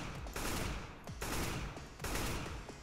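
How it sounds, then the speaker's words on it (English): AK rifle fired in short bursts in CS:GO: three loud, close volleys of rapid gunshots, each lasting around half a second to a second and separated by brief pauses, with no voices. "when you're burst firing, you can obviously, but you may need to, with an AK especially, still pull down a little bit"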